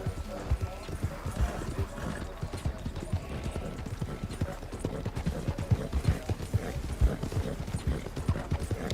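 Rapid, rhythmic hoofbeats of a galloping horse pound close by, with a voice talking over the steady beat.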